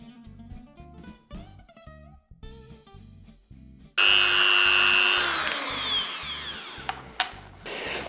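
A Dremel rotary tool grinds and smooths a copper sulfate crystal, starting abruptly partway through with a loud, steady high-pitched whine and gritty abrasive buzz that holds to the end, following quieter tonal sounds beforehand.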